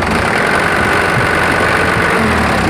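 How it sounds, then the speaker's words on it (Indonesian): Diesel truck engine running rough from a damaged injector nozzle, with the number three cylinder vibrating hard as it is revved; a loud, continuous uneven drone with a knocking undertone fills the close recording without speech. "Seandainya mau melihat ya suara pincang di mesin, itu langsung kita cek di nozzle-nya ya"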